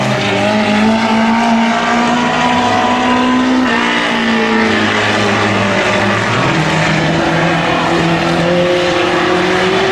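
Four-cylinder race cars lap a speedway track, their loud engine drone running without a break and rising and falling in pitch as the cars pass and accelerate.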